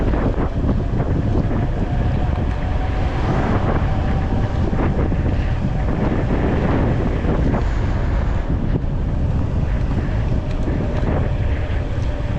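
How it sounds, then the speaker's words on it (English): Steady, loud wind rush and road noise while riding a 3000W 72V DIY electric bike, with a faint whirring freewheel buried under constant buffeting that never lets up. "You hear a little bit of a noise from the freewheel."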